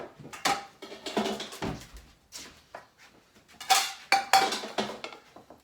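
Plates and cutlery clatter and clink in several separate bursts, close by, with short quiet gaps between handling sounds.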